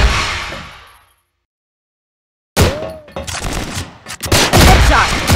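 A Steyr TMP submachine gun in the shooter Cross Fire China, a commemorative CFS 2018 variant, rattles off loud, rapid close-range bursts after a stretch of silence, amid other shots and clanks.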